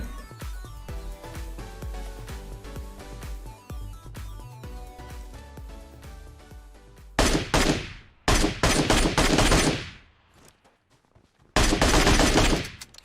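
Rapid automatic gunfire in the PUBG Mobile game on the Livik map, loud dense bursts of shots after a stretch of game music, with short gaps between volleys.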